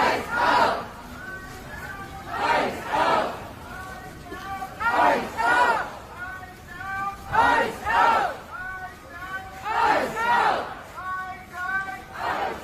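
A protest crowd outside the Minneapolis airport chants in loud rhythmic waves, many voices rising and falling together in repeated bursts, with babble between chants.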